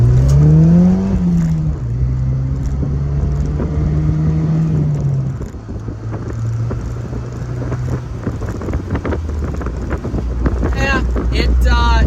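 A turbocharged GM engine in a Pontiac Solstice GXP revs and climbs in pitch, drops as it shifts, then pulls again under steady rushing wind noise.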